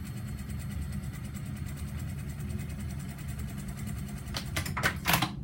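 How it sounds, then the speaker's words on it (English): A sewing machine runs steadily as it stitches a pocket seam about a quarter inch in from an existing seam on a garment, a continuous low mechanical whir with a few brief sharper clicks near the end. "we're going to sew again just about 1/4 inch in from that seam"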